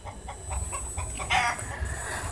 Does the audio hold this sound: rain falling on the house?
no